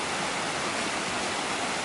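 Water flows steadily beside a campsite, a continuous broadband rushing hiss at low level with no variation and no voices.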